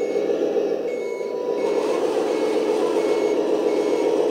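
Turn signal on a 1/14-scale metal-chassis RC Benz truck, an even, repeating electronic beep holding steady at close range for the whole stretch, with no talk.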